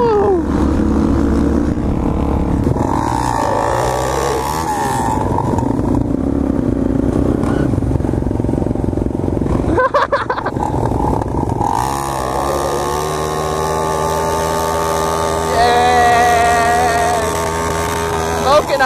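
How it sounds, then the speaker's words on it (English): Supermoto motorcycles riding through Los Angeles, engine drone rising and falling with revs throughout, loud and close, while a rider talks over the ride. "Like, literally the most perfect day to be cruising on the motorcycle."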